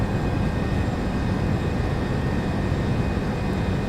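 An MD-11 airliner's thrust reversers roar in the X-Plane 12 flight simulator, a steady, loud, broadband engine rumble that holds without a break.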